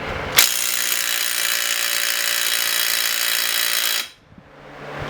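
A Dewalt cordless impact wrench hammers hard against a stuck bolt in one loud, continuous buzzing burst of about four seconds, then cuts off abruptly.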